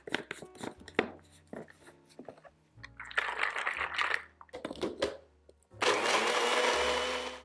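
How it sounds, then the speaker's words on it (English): A blender whirs through cashews, liquid aminos and water, starting in short loud pulses and then running into a steady, full roar near the end. "we are just going to blend this until the cashews are nice and creamy and smooth"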